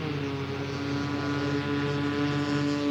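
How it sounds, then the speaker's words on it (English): A scale model Cessna 182 aircraft flies at a scale aircraft show, its engine giving a steady, continuous buzzing drone at a moderate distance, holding an even pitch throughout. "Cessna 182."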